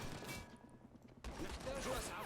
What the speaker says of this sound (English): I don't ever think they're gonna quite stop shooting at each other for a couple of minutes